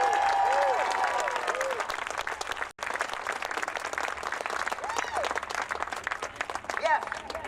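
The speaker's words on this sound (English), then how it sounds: "How about another round of applause?" A crowd at a science rally gives another round of applause, dense clapping mixed with cheers and whistles, a brief dip partway through, with voices calling out over it.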